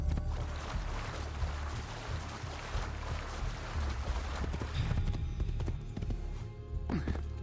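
Hooves clip-clop at a steady trot from a horse in the video game Assassin's Creed II, a rhythmic stream of close thuds over faint ambient noise.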